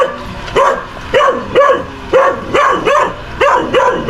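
A dog barks repeatedly in a steady rhythm of sharp, fairly loud yelps close by, about eight barks in quick succession outdoors near a house full of garbage.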